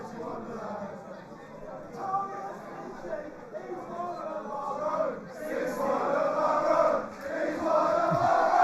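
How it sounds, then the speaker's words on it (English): Crowd at a live darts tournament cheering and calling out for a player, a rising wave of voices and shouts under a commentator's talk, growing louder toward the end. "Crowd are trying to get Tom back into this"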